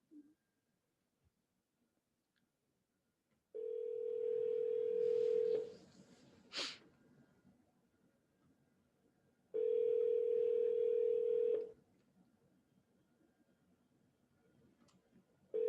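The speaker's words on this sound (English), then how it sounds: "it is ringing the number, but it's not working yet." A phone line rings after dialing an Amazon Connect call center number: two long ringback tones separated by silence, with a brief beep between and a third starting at the end.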